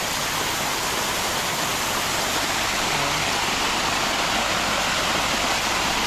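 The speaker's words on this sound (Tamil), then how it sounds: "உள்ளே பார்த்தீங்கன்னா ஒரு நல்ல நீர்வீழ்ச்சி." Steady, dense roar of a waterfall at Yelagiri hill, broadband rushing water filling the whole clip at constant loudness with no voices.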